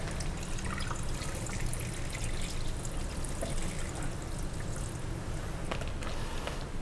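Water pours and splashes over soybeans being washed for tempeh, a continuous rushing trickle with small drips and faint clatter close by.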